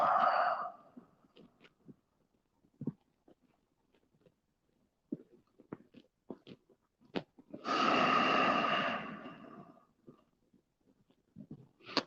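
Slow, deep breaths during a yoga child's pose, a long audible exhale standing out midway among quiet pauses and soft scattered rustles.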